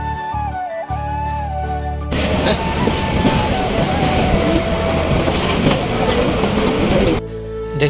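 A passenger train rolls into Mymensingh station, a loud steady rumble and rattle of wheels on rails with a tonal hum before and after, a voice talking faintly at the start.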